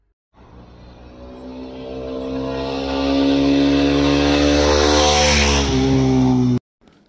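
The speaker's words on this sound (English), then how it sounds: "The bike cruises effortlessly between the speeds of 90 to 120 kilometers per hour" A Mahindra Mojo BS6 motorcycle riding at speed on Pirelli tyres gives a loud, steady engine drone that climbs gradually in pitch as it accelerates, with rushing wind, then cuts off abruptly.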